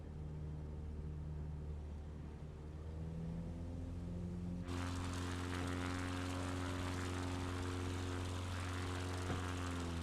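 A propeller airplane drones steadily in Microsoft Flight Simulator during a low approach, with a constant engine hum that suddenly grows louder and brighter midway, as if the engine is throttled up, close and continuous.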